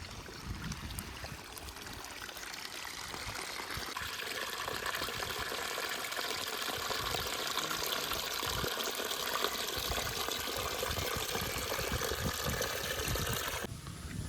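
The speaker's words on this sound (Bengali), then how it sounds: "নদীতে পড়ছে জলটা" Rainwater pours steadily into the Padma river beside a muddy riverside path near the India-Bangladesh border during the monsoon, a constant close rushing trickle with no voices.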